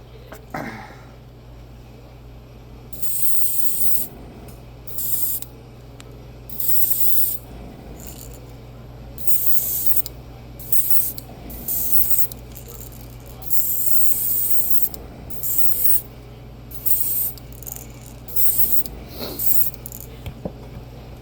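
Repeated bursts of aerosol spray paint hissing onto a bluegill crankbait fishing lure, each lasting a second or so with brief pauses between, close and fairly loud over a steady low hum.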